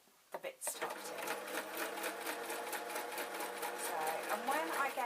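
A sewing machine running steadily and close while stitching a denim skirt, a fast rhythmic whirring hum that starts after a few clicks, with a person talking over it.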